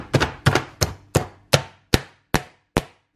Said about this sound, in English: you can see the onions have been chopped very nicely and finely